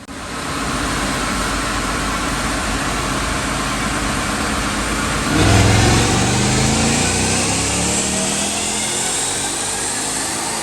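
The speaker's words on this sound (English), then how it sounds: "Doug, let's go check out that dyno pull." A 2017 Mustang GT automatic with a Roush Phase 2 supercharger roars loudly on a dyno, the engine holding a steady drone before surging louder midway and sustaining a strong, rising pull.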